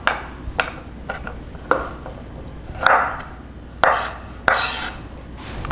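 A knife chops green beans on a board in a string of sharp, crisp knocks, sometimes paired and at irregular intervals, loud and close with no talk.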